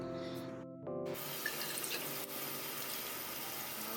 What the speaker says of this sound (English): I'm gonna clean my hands thoroughly with some soap.